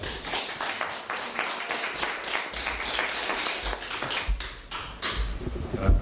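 Studio audience clapping for Damiano on an Italian live broadcast, a steady patter of many hands at moderate distance with individual claps audible, building slightly louder near the end.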